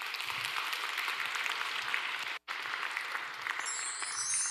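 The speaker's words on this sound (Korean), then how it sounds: "박수 한번 쳐줍니까?" Church congregation clapping in a lecture hall, a steady wash of applause that holds at an even level, briefly cut off midway, then continues alone without talk.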